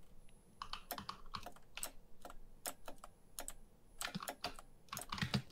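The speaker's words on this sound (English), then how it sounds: "Because all I hear now is your keyboard." Someone types fast on a computer keyboard during a gaming speedrun, the keys clicking close and crisp in uneven bursts and clusters with short pauses between them, with no voices.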